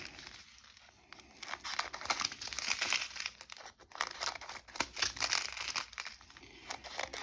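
Packaging is cut open with crisp crinkling, tearing and snipping of plastic and card, in close, uneven bursts at a fairly quiet level with no voices.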